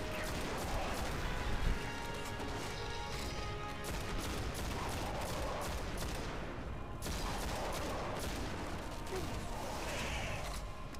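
Rapid gunfire from the Destiny video game rattles continuously in a dense, noisy game mix, with bursts and blasts layered under steady background action.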